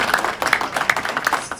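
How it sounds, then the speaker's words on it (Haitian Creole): Scattered hand clapping from an audience at an honours ceremony, a series of sharp claps repeating irregularly through the short stretch, moderately loud with a faint murmur underneath. "On applaudit s'il vous plaît."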